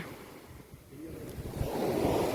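Monsoon sea waves roll in at Daman beach, a low swelling wash of surf that builds toward the end, with wind rumbling across the microphone.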